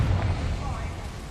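A Confringo explosion spell in Hogwarts Legacy: a dense, rumbling burst of fiery blast noise that fills the whole moment, loud and close, without a clear single onset.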